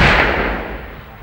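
A Bofors anti-tank missile launches toward a main battle tank at a demonstration, one loud close blast whose rumble fades over about a second.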